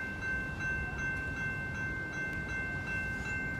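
Inbound Metra 208 express commuter train passing Riverside, Illinois, a steady low rumble of rolling wheels with a faint sustained high tone above, continuous and moderately loud throughout.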